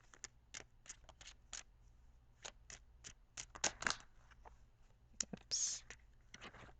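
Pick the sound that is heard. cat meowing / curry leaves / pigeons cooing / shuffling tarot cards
shuffling tarot cards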